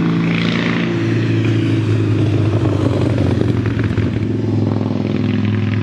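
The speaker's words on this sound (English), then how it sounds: "Sounds like we got some motorcycles coming." Big chopper motorcycles pass outdoors, their engines a loud, continuous low rumble that swells and holds steady throughout.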